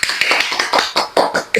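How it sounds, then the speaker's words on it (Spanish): Small group clapping for new microphones in a Spanish comedy show, a burst of sharp uneven claps about a second and a half long, close and fairly loud with no talk over it. "¿Un aplauso?"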